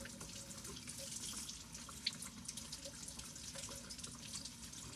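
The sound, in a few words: rinsing vegetable under running tap water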